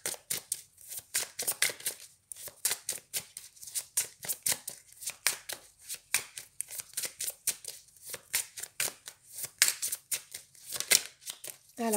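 Tarot cards shuffled by hand, a quick run of crisp papery riffles and slaps in an irregular rhythm, close and fairly quiet with no speech.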